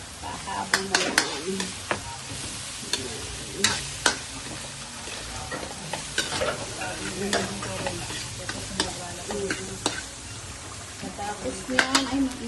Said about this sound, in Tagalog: Ayan, piniprito na yung tokwa.